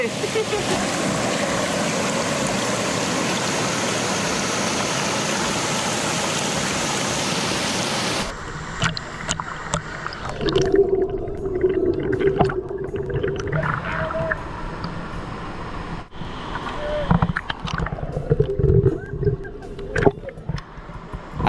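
A waterfall roars loud and constant for several seconds, then cuts to a quieter scene of splashing water and people talking.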